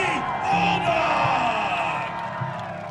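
A crowd at Watkins Glen cheers, whoops and yells loudly for a performer being introduced, a sustained roar of many voices that swells and then eases slightly.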